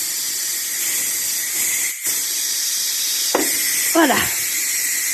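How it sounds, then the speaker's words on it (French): Steam rushing from the pressure-release valve of a Ninja Foodi MAX, a loud continuous close hiss with a brief break and some sputtering toward the end, while a voice speaks briefly. "Là, j'attends un tout petit peu, mais je vais lâcher la pression."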